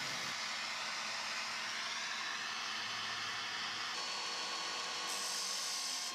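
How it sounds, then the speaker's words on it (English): A small bristle brush on a grinder cleans up a soldered metal strip, giving a steady high whirring hiss that shifts slightly in pitch, close and continuous with no talk. "Grind, little bristle brush, clean up."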